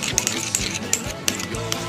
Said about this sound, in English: we need to stir it as we're putting it in here